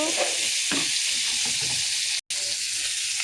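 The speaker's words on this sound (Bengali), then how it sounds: "মাছ ভাজা হচ্ছে" Fish sizzles and crackles steadily in hot oil, a close, continuous frying hiss with a brief dropout near the end.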